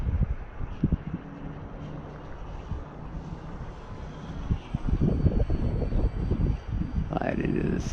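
An RC airplane runs at full throttle overhead, a distant engine whine under heavy wind buffeting on the microphone, with a person speaking intermittently.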